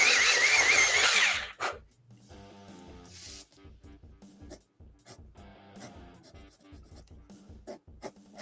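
A drawing pencil is sharpened in a brief, loud mechanical whirring burst of about a second and a half, followed by quieter background music.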